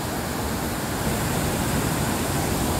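The swollen Khardu river, running high with white water, rushes past in a dense, steady roar that holds evenly throughout with no pauses and no voices.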